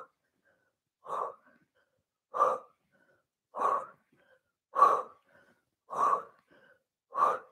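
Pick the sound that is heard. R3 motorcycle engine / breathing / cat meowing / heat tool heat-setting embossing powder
breathing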